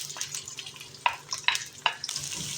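Onions frying in oil in a kadai for a bhindi masala, a quiet hiss broken by a few sharp metallic clicks of a spoon stirring against the pan.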